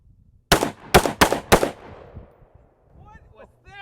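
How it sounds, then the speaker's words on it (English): Four sharp, very loud gunshots from a very short AR-15 fitted with a bottle rocket muzzle device crack in quick succession at an outdoor range, each ringing out briefly before faint voices follow. "that bottle rocket muzzle device, the thing I called the loud insert, proved a little bit too loud for a range"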